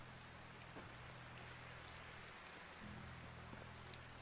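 Steady rain hiss in the video game Medieval Dynasty fills the whole stretch, a soft continuous patter with a low hum beneath, no voices.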